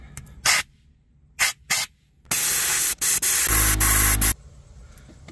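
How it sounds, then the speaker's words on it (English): Compressed air blasts through the sunroof drains of a Jeep Grand Cherokee ZJ in short loud hissing bursts separated by silence, followed by a longer sustained blast with a gurgling, buzzing sputter near its end. "I'm gonna use some compressed air and clear out all my drains."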